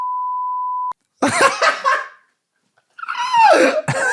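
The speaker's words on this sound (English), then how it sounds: "My favorite one is the beeping sound whenever I say." A loud steady censor beep tone, then laughter bursts from people nearby.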